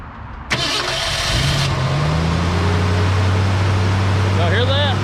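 A 1968 Ford F100 truck engine cranks with a loud whirring starter burst, then catches and settles into a steady, close, loud idle with a low droning hum, while a person speaks briefly near the end.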